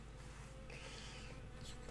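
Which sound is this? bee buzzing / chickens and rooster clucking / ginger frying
bee buzzing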